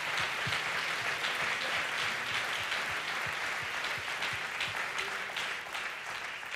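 A ministry conference crowd clapping hands together, a dense, sustained wash of applause with some individual claps audible, steady throughout and tapering slightly at the end.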